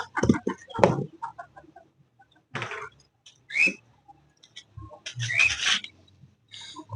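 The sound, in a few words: chickens clucking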